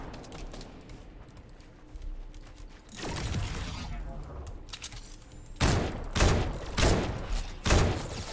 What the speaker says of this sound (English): I'm getting shot from the west